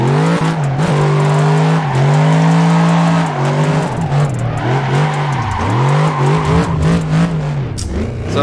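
A car drifts in a sim racing game, its engine revving up and down over long squealing tire slides, loud and continuous with shifting pitch throughout.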